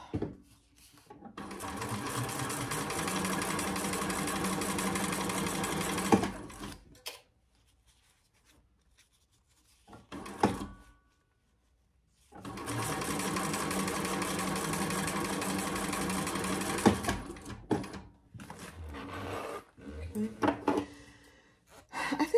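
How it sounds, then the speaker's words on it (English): A sewing machine stitches a waist pack in two long, steady runs of rapid mechanical whirring, broken by quiet pauses with small handling clicks. "it's sewing beautifully and the stitches are stunning, but it feels tight"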